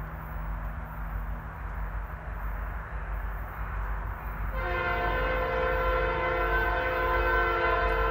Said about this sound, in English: Looks like a pretty short train.